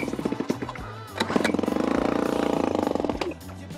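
Old cheap outboard motor sputtering and revving, uneven popping bursts that settle into a rapid buzzing rev before faltering, loud and close.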